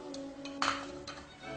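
A gas stove burner is lit under a little pan of butter for a sage sauce, with a couple of short sharp igniter clicks and a brief rush of flame over a steady low kitchen hum.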